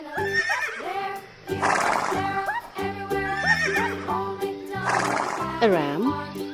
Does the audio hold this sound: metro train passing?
no